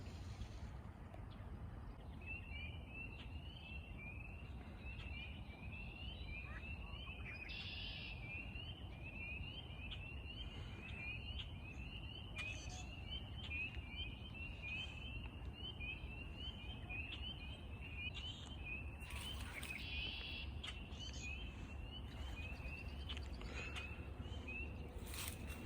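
Birds call in a wetlands meadow at Arlington's Great Meadows in Lexington, a steady run of thin, high repeated chirps over constant wind and soft outdoor rumble.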